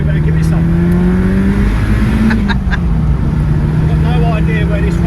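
A 400bhp Cosworth estate car accelerates hard on an open road, heard from inside as a loud, steady engine drone with rising pitch. Occasional voices speak over it.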